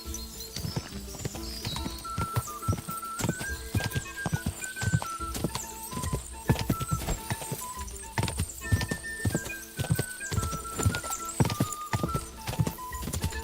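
A horse in the medieval game Kingdom Come Deliverance 2 trots with steady clip-clopping hoofbeats under a tonal musical score, and a brief whinny may come through.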